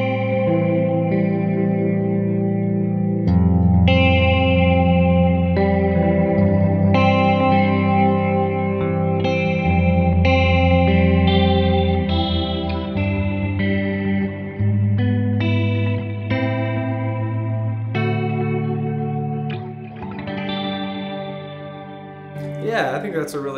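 A Kemper profiler's rotary speaker effect swirls over sustained guitar chords, its warbling modulation ramping up in speed as the chords change, loud and continuous with no talk.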